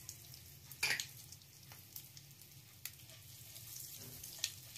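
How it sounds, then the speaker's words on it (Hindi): Cumin seeds roasting in hot oil for a jackfruit curry, a faint steady sizzle and crackle with occasional sharp pops and small clinks close by. "जीरा, इनको अब हम भून लेंगे।"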